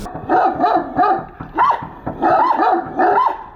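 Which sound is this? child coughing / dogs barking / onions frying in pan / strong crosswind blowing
dogs barking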